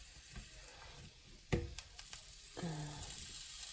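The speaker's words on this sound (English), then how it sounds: "we just gonna add our onions to it" Chopped onion hits warm oil in a pan and sautés, giving a soft, steady sizzle with a sharper burst as it goes in, followed by light stirring. The sound is close and fairly quiet, with no talking.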